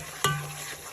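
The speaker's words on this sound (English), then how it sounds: "Now we're going to start stirring." A spoon stirs a flour and melted butter roux in a pot, giving a single close scrape followed by a soft, steady sizzle.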